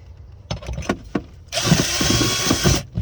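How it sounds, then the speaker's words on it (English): A power drill punching quarter-inch holes through a truck floor during a twin stick shifter install, short bursts of clicks then a steady whirring run of about a second and a half, close and loud. "Just going to punch a couple of 1/4-inch holes in the floor."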